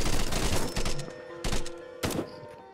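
Bursts of G36 rifle gunfire in the VR shooter Contractors, a long rapid volley followed by two shorter bursts, loud and close, with no talk.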